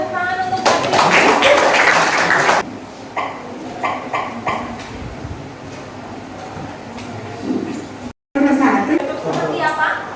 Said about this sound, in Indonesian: Tepuk tangan untuk Bari.